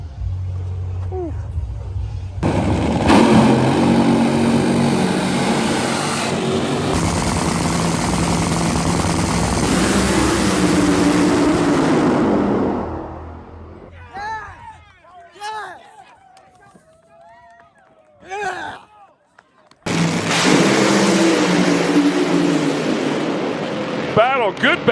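Drag race cars in the IHRA Dragway 42 finals roar down the lanes, a loud sustained engine blast that fades out, a quieter stretch with voices and cheering, then another loud roar.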